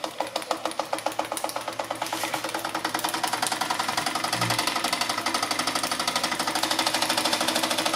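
A Marklin 4106 live steam engine, freshly rebuilt with a small leak at the bottom of its sightglass, runs in reverse with a fast, steady mechanical chuffing and clatter that stays close and continuous throughout.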